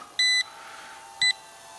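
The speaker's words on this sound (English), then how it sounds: "so you get that beep, beep, beep forever" Two short electronic beeps from a Syma X20 pocket quadcopter in headless mode, high and clear, separated by about a second, over a faint steady hum.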